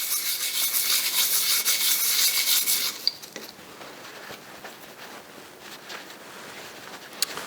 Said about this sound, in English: first I'm going to do a quick sanding